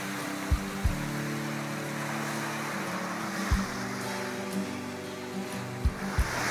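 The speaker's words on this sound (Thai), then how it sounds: "ฟังเสียงคลื่น" Sea waves wash steadily onto a beach at Chao Lak in Thailand, a continuous broad roar with a few soft low thumps from breaking surf, heard alone without voices.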